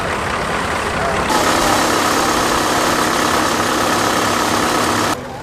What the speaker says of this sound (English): A rare tractor to see in the UK, this Renault P4 made in the